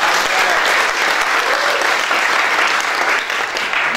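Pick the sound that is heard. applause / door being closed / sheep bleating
applause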